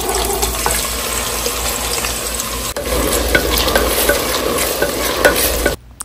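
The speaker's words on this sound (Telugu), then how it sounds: "ఇప్పుడు ఆనియన్స్ ఫ్రై కోసం ఆయిల్ ఇంకా కొంచెం నెయ్యిని వేసుకొని ఆనియన్స్ని గోల్డెన్ బ్రౌన్ కలర్ వచ్చే వరకు ఫ్రై చేసుకోవాలి" Onions frying in oil and a little ghee for chicken haleem, a steady loud sizzle with repeated stirring scrapes throughout, close up and without talk, cutting off abruptly near the end.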